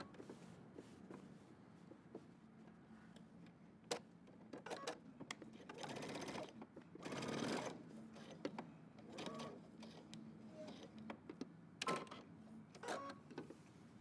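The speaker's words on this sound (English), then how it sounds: "and I'm gonna baste stitch" A sewing machine runs long basting stitches on a denim jacket, with quiet, intermittent whirring bursts of varying length and small clicks between them.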